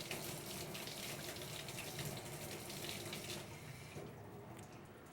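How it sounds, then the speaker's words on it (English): Tap water runs steadily into a kitchen sink as something is rinsed while making toffee chocolate mousse, a continuous close hiss and splash that eases off near the end, with no talking. "let me rinse this off"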